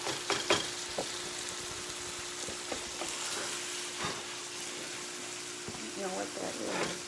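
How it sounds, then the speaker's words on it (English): Ground meat sizzling steadily in a pan for a keto bacon cheeseburger casserole, with repeated scraping taps of a utensil chopping and stirring it, the frying hiss continuous throughout. "this is so great to chop up to chop the meat up for you. Just mix and chop."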